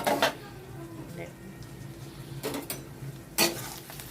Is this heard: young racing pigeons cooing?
no